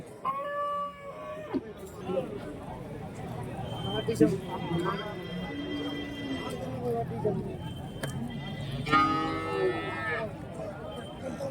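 Cattle at a Sunday livestock market in Santhipuram, Andhra Pradesh, moo twice, once near the start and once near the end, amid constant background chatter and market bustle.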